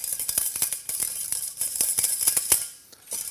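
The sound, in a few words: whisking egg yolks and sugar in a small saucepan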